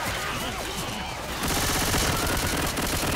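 Rapid bursts of gunfire in Left 4 Dead 2 swell into a dense, loud fusillade partway through, with a few quick shots beforehand.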